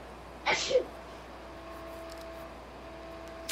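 A single sharp sneeze bursts out near the start during an online game session, brief and close, followed by a quiet background hum and a faint click at the end.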